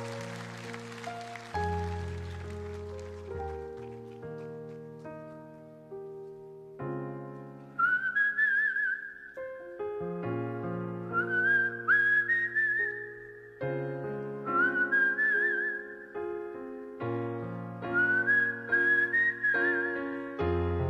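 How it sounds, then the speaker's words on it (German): The famous whistled intro melody, performed live with two singers. The clear, bright whistle repeats its rising and falling phrases over sustained band chords, growing louder as it goes. "Du machst das Intro, dieses berühmte Pfeifen, das kriegt keiner so hin wie du."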